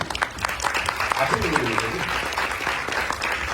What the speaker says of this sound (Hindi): जोरदार ताली से अभिनंदन।